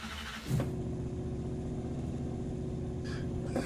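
Sauber C11 Group C race car in rFactor 2 at Spa, its engine note holding a steady, loud drone after a brief sharp onset, with no talking over it.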